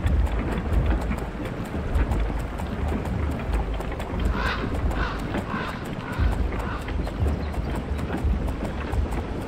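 Horse hooves clip-clop at a steady walking pace in the VR game Fated, a soft repeated patter set against a constant ambient wash of wind and rain-like noise.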